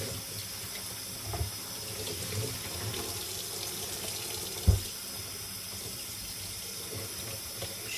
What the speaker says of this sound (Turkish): Şunları da yıkayayım.